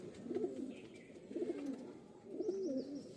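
Pigeons kept for sale give three low, rolling coos in a steady rhythm, close and fairly soft, with faint higher chirps from other birds in the background.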